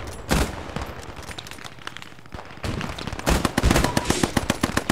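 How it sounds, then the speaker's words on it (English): Rapid bursts of gunfire in the Post Scriptum war game, Battle of France scenario, with sharp cracks and volleys growing denser and louder toward the end, close and continuous with brief lulls. "Keep shooting"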